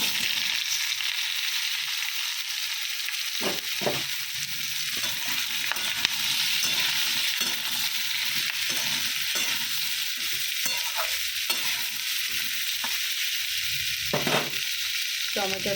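Tomato, ridge gourd and potato fry in hot oil, making a strong, continuous hiss. Scattered knocks and scrapes of a spatula come through close by.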